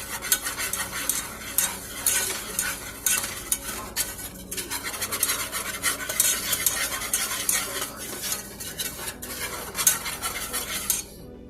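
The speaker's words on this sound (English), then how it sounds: "I'm just going to make sure I keep stirring it so it doesn't burn" A spoon stirs a simmering strawberry cobbler mixture in a pot, with continuous scraping and clattering against the metal and a faint bubbling sizzle beneath, close and busy throughout with no voices.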